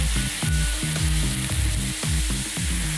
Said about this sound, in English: So in order to get that off, I have to add a liquid. You could add wine, I'm gonna add beer.